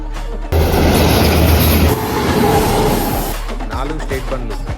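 Express trains rush through Kothapally railway station in Telangana at high speed, a loud, close roar of wheels and carriages that surges in abruptly, rumbles heavily for a few seconds, then fades as the train passes.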